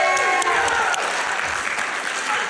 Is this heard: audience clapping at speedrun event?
yes